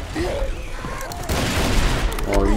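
Rapid gunfire from Left 4 Dead 2 on The Parish campaign at Expert Realism difficulty, dense overlapping shots crackling close and loud across the whole stretch, with a brief voice near the end.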